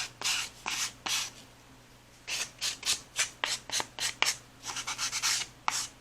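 Short, dry rasping strokes of a nail file rubbed along paper page edges in a mixed media art journal, close and repeated in quick bursts with brief pauses between runs.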